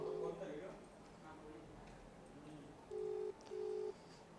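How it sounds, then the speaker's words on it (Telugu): A telephone ringback tone repeats in short, even beeps, with quiet background noise between them and faint voices. "రింగ్ అవుతుంది ఫోను"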